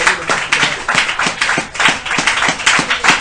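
A church congregation applauds together in a dense, steady wave of clapping, with sharper individual claps cutting through now and then, loud and sustained throughout.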